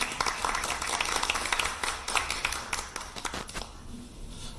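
Crowd applause at a People Power Party visit to the Korea Financial Investment Association, a dense burst of many hands clapping that thins and fades toward the end.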